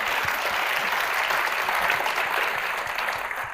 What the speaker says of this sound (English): Big round of applause for Victoria and Stephanie.